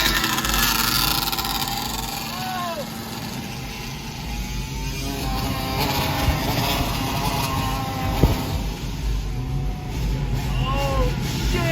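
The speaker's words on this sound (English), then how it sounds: "We got ATVs and dirt bikes!" ATVs and dirt bikes drive by on a city street, their engines a low, rumbling drone that swells and fades while excited voices shout over them.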